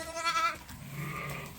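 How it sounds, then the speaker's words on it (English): A Dorset ewe and her lambs bleat as they head out of a pen, a couple of short nasal calls close by followed by a lower, fainter bleat. "this is the little Dorset and her little lambs going out"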